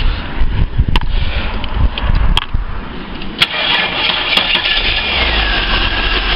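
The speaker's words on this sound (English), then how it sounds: "Let's fire it up" Cold start of a Holden Commodore engine, a cranking and catching rumble that settles into a rough, uneven idle with a few sharp clicks and knocks, steady and close.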